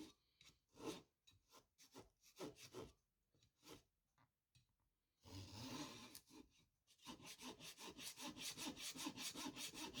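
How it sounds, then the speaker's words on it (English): Veneer saw cutting thin wood veneer with a little glue on it, first in short separate rasping strokes, then a longer scrape and a fast run of even back-and-forth strokes, close and quiet. "you always want to pull the saw toward you so it's cutting away from the corner"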